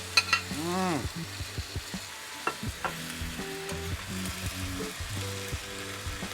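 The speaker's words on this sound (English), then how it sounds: "toss in the beef and cook around for another 10 seconds" Beef tossed in sauce in a hot pan or wok for a Chinatown-style beef steak, a close, busy sizzle with repeated spatula clatter and scraping, faint tonal sounds in the background and no speech.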